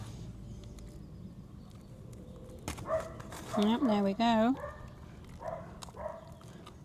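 Dogs bark and yelp in a short, loud burst at the middle as they chase the postman outside a garden, heard over steady outdoor background noise, with a person speaking briefly nearby.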